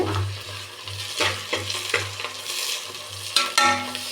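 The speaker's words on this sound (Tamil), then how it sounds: "இப்போ வெங்காயம் ஓரளவுக்கு செவந்துட்டு" Onions fry for chicken biryani as a spoon stirs them in a pan, a steady low sizzle broken by repeated scraping strokes and a few sharper clinks near the end.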